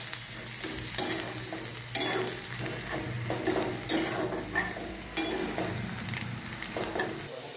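Onions fried until deep red with a little turmeric powder, stirred in a pan: steady close sizzling with a spoon scraping the pan at a regular pace, about one loud scrape each second.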